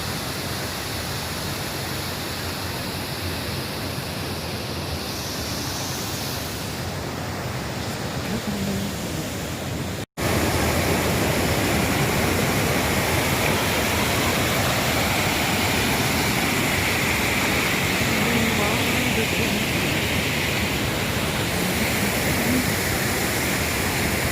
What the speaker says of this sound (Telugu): ప్రవహిస్తున్నటువంటి వాగు పేరు భీమేశ్వర వాగు.